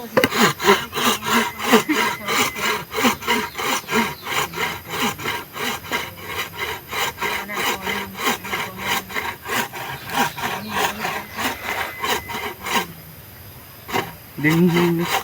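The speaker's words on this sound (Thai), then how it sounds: "เลื่อยขด" A bow saw cuts through wood with loud, rhythmic rasping push-and-pull strokes, close up and steady, pausing briefly near the end before the sawing starts again.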